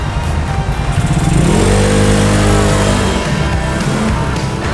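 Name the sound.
modified Yamaha Mio Sporty motorcycle riding off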